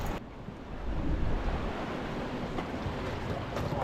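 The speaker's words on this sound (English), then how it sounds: "So that head-on wind's a bit of a pain, but it can pay off sometimes." Strong head-on wind buffets the microphone on a lakeshore during bass fishing, a steady loud rushing roar with water lapping and no talk.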